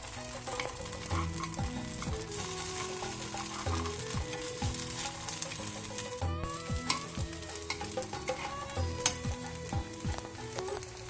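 Jackfruit appe batter sizzles and fries in an appe pan, a steady close crackle with occasional soft scraping and tapping as the pieces are turned.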